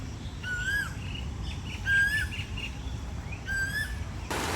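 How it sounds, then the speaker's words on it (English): Birds chirp outdoors in humid, rainy weather on a nature walk in Delhi, giving three clear rising whistled calls spaced about a second apart over a steady background hiss, moderately close and without talk. "Can you hear the birds?"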